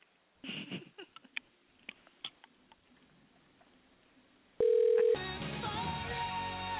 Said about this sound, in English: I'm going to call her right now on her cell phone.